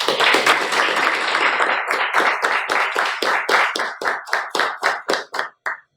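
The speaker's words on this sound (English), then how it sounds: "I'd like to request everyone to please give a big round of applause" A round of applause at a Toastmasters club meeting starts as a dense burst of many hands, then thins out into a handful of distinct, spaced claps that trail off near the end.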